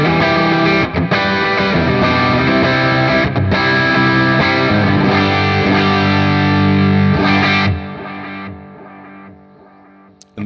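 Distorted electric guitar played through a NUX Solid Studio amp simulator with all controls at noon and presence slightly lowered, thick sustained chords ringing loud and steady for about eight seconds before fading out.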